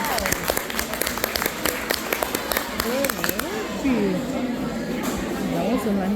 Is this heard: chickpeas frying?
no